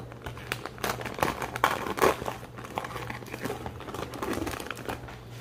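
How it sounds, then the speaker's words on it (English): Plastic mushroom grow bag being cut open at the top, giving close, soft crinkling and tearing sounds in irregular bursts against a faint low hum. "Just chop the top open and cut it down a little bit."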